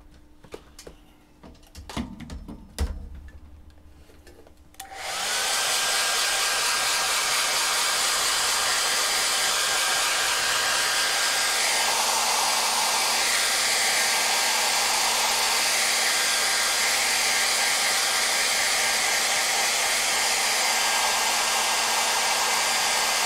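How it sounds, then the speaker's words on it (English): After a few soft clicks and handling knocks, a hairdryer switches on and blows steadily and loudly at close range for the rest of the time, drying a painted WizKids Beholder miniature model. "I'm going to give them a quick blast with a hairdryer."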